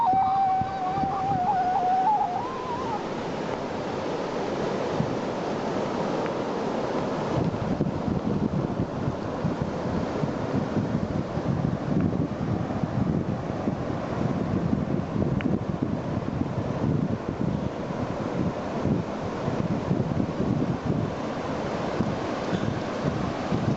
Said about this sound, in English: I can see the ocean.